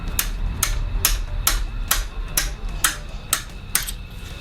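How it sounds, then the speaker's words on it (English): A hammer strikes a long left-hand-thread bolt on the engine of a 2022 BMW M135i, nine sharp metallic blows in a steady rhythm, close and loud with no talking. "I'm just going to see if I can shock this loose now by hitting it with a hammer"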